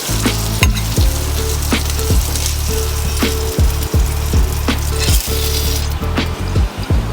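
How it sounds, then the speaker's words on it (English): Sausage sizzling loudly in a pan, a steady dense crackle with repeated clanks and scrapes of a utensil against the pan throughout. "I think the sausage is ready, so I am going to remove it."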